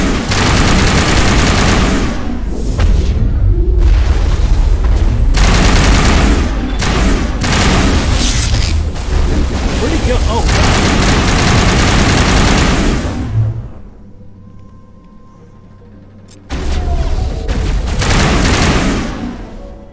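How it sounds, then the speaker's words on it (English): Heavy gunfire rattles in dense, loud bursts during a Mass Effect 1 firefight, including sniper shots, then drops to a quiet lull for a few seconds before the shooting resumes. "Oh shit, sniper!"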